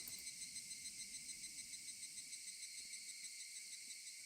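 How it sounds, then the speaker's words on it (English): Cicadas from the Higurashi visual novel sound effects drone in a steady, high-pitched, pulsing chorus that carries on without a break, faint and even throughout, with no other sounds. "Only the cry of the cicadas remained, annoyingly loud."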